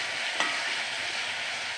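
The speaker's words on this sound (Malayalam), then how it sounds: "ചീനച്ചട്ടിയിലേക്ക് എണ്ണ ഒഴിക്കുക." Oil going into a hot kadai for a Kerala dal and raw banana curry gives a steady, close sizzle with faint hissing throughout and one brief splatter near the start, with no voices.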